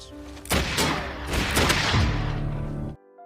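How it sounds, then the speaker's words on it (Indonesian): A rapid exchange of gunfire, several loud overlapping shots cracking in quick succession for a few seconds before cutting off abruptly. "Mereka pun saling tembak."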